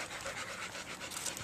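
Several dogs pant rapidly and steadily close by, with a continuous breathy rhythm and no talking.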